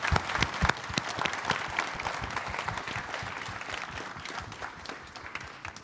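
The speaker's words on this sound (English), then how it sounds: "let's get a grand applause for these wonderful children" An audience at a school parents' orientation event in Doha claps in dense, sustained applause that gradually tapers, with a faint voice mixed in.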